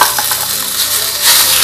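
Coarsely ground rice stirred into a pan of fried dry fruits for kheer, giving a soft scraping stir with a light sizzle that grows a little brighter near the end, with no talking.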